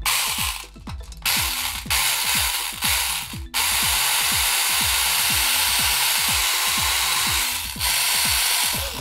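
A Marushin Magnum Shooter toy BB gun runs its mini 4WD motor, giving a loud, fast, repeating mechanical ratcheting clatter like a drill. A constant high whir continues alone through the middle stretch.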